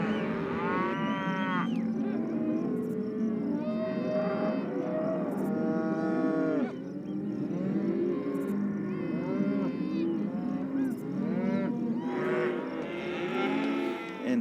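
Cattle on a ranch mooing and bellowing over one another, a dense herd chorus of overlapping calls that runs continuously and loudly throughout, with no voices.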